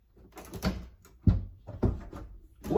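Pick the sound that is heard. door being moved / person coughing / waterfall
door being moved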